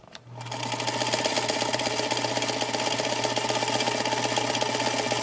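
An old Singer sewing machine runs steadily once its foot pedal is pressed, giving a fast, even mechanical whir with a low hum that starts after a brief click and carries on alone.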